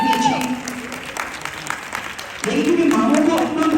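An audience at a fundraiser in Orlando applauds for the children, with clapping swelling to a fuller burst midway while a voice talks over the start.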